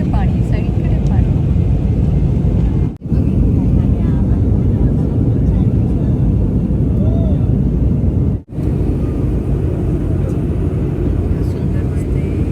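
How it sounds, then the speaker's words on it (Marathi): Inside an airplane just after takeoff on an inter-island flight from Maui to Kauai in Hawaii, a loud, constant cabin roar fills the whole stretch, broken by two very brief dips. "उडान घेतली, विमानाने उडान घेतली"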